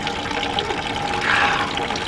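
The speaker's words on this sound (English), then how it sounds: "I'm going to pull the pencil out, and the water is going to come out of this bucket" Water gushes steadily from a hole in a bucket after a pencil plugging it is pulled out, a continuous close splashing stream with a slight swell midway.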